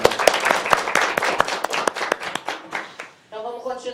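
Clapping from an audience at a Brazilian journalism event, a burst of uneven claps that thins out after about three seconds, ending with a voice speaking.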